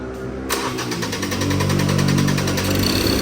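A Ford/Mazda diesel engine that idles smoothly but lacks power when driving runs close by with a steady, rhythmic clatter. A brief mechanical knock comes near the start, and no one speaks.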